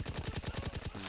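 Machine gun fire in Call of Duty WWII: a rapid burst of about ten evenly spaced close shots, then a brief mechanical clatter at the end, no talk over it.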